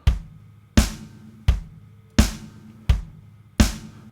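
A simple electronic drum pattern plays alone, alternating a booming kick and a sharp snare at a steady, even pace.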